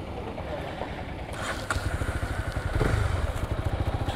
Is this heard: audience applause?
no